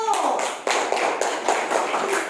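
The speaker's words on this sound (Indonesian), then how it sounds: "Tepuk tangan untuk Jidan dulu." Classroom applause breaks out as students clap for a classmate at the front, a brisk burst of many hands clapping close by for a couple of seconds.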